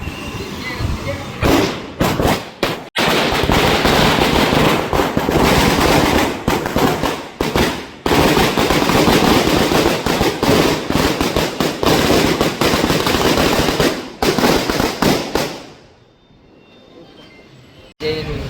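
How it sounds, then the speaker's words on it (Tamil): Firecrackers going off at a street celebration of a Vijay film's success in Jaffna, loud dense crackling bursts for about fifteen seconds before dying away, with voices among the din. "இந்த வெடிகள் கொளுத்தப்பட்டு சந்தோஷத்தை முன்னெடுக்கிறத வந்து பார்க்கக்கூடியதாக இருக்குது"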